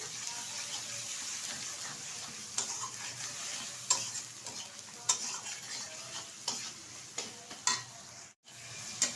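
Cumin powder, salt and spices stir-fried in a pan for an omelette curry, with a steady sizzle under repeated scraping strokes of a spatula, close and moderately loud, with no voices.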